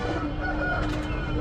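A rooster crows once at moderate distance, a drawn-out call over a noisy outdoor background.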